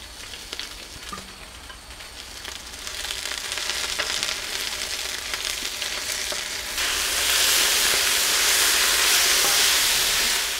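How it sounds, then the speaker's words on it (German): Cabbage frying in oil in a Dutch oven, a steady loud sizzle and crackle that grows brighter and more intense toward the end, with no talking. "Und in dem Öl braten wir uns jetzt erstmal den Kohl an."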